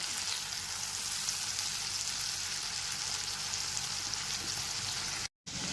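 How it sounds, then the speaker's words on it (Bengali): Tomato paste and ginger paste sautéing in a pan over a low-to-medium gas flame, a soft, steady frying hiss throughout, fairly quiet, cut by one brief silent gap near the end. "টমেটো বাটাটাকেও আদা বাটার সাথে খুব ভালো করে কষিয়ে নিতে হবে।"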